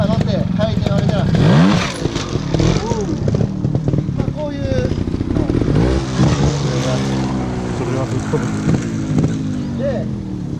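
A trial motorcycle at an off-road trial school staircase obstacle revs up and down repeatedly, its engine note rising and falling close by, with a person talking throughout.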